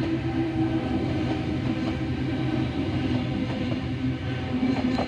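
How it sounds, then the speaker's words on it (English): A train departing platform 3 at Wolli Creek station rumbles and rolls along continuously, a loud, steady low drone with faint rhythmic clatter from the wheels. "And train departing at platform number 3."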